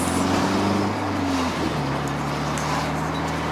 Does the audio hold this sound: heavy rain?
no